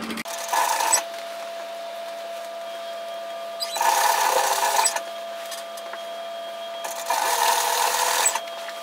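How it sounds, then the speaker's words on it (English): A sewing machine top stitching the facing of a Martha apron dress runs in three bursts of rapid, even stitching of about a second each. Quiet pauses with a faint hum separate them. "So do your top stitching on the facing side just like you did for the neckline."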